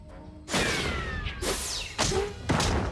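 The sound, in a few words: spaghetti rocket launcher firing a can of sauce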